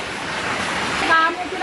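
Flood water flowing along a drain or channel beside houses, a broad, steady rushing wash heard close and fairly loud, with a brief tonal whine near the end.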